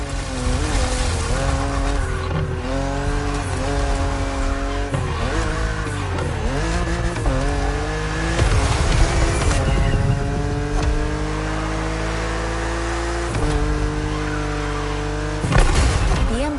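A BMW Z roadster racing in The Crew Motorfest, its engine revving loud and close with rising and falling gear-shift sweeps, tire squeals and skids throughout the run.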